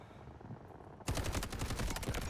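AUG rifle fire in the Delta Force video game starts abruptly after a second of low ambient rumble as a loud, rapid burst of automatic shots that continues steadily to the end.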